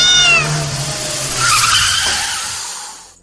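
A black cat lets out a drawn-out, wavering yowl over rumbling vehicle noise and tire skid as it is run over, ending abruptly in silence.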